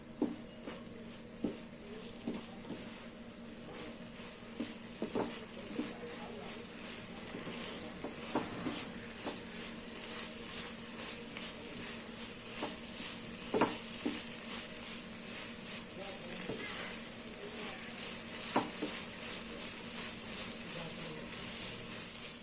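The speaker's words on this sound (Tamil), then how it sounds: "ஃப்ளேம் கொஞ்சம் ஹைலியே வச்சு மிக்ஸ் பண்ணிக்கோங்க." Bread masala being stirred in a pan over a high flame: a soft, steady sizzle with frequent light scraping and tapping of the spoon, fairly faint.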